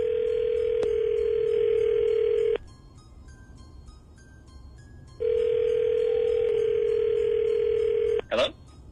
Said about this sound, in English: Let me get you your dial tone